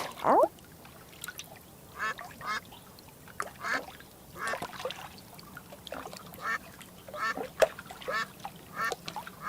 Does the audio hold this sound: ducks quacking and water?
yes